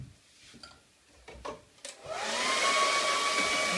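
Quiet taps and knocks, then a hair dryer switches on and blows steadily and close, a continuous whir with a faint whine, drying freshly applied paint.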